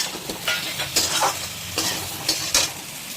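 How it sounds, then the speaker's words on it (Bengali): A spoon stirs ground chili, turmeric and salt in hot oil in a pan over a low gas flame, giving a steady soft sizzle broken by repeated scraping strokes, close and fairly quiet. "মশলাগুলো দিয়ে জাস্ট একটু নাড়ানো হয়ে গেছে।"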